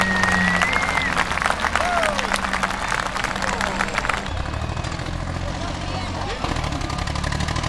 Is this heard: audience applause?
yes